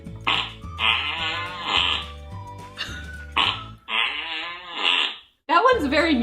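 A soundboard plays loud fart sound effects, including a buzzing, musical, kazoo-like one, in several long bursts separated by short gaps.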